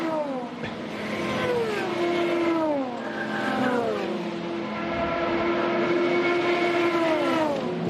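Several LMP2 prototypes and an Aston Martin GT car race past in close company, engine notes rising and falling through the gears as they pass at steady loud volume with no talk.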